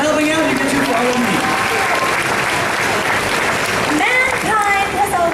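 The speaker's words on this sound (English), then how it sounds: "Give her a huge round of applause for helping out." Audience applause at a Halloween circus show, a loud continuous wash of clapping with cheers and voices over it, including whoops toward the end.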